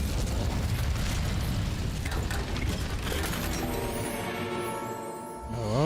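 Fire spell cast in Hogwarts Legacy: a dense, roaring crackle of flame-like bursts sustained for several seconds, fading into a tonal magical shimmer near the end, loud and close with no talk.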